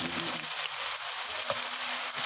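Onions frying in a pan for a mushroom carbonara, a close steady sizzle with soft scraping and clicks as they are stirred, no talking.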